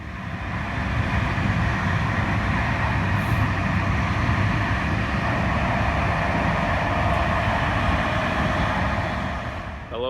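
A steady, loud rumble and rattle from inside a moving train carriage in France, with a constant low drone and no talking.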